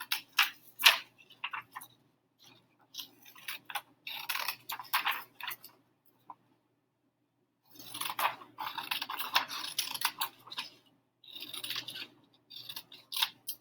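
Scissors cutting through paper boxes of printed notes, heard as clusters of crisp snipping and crinkling bursts, close and moderately loud, separated by short silences.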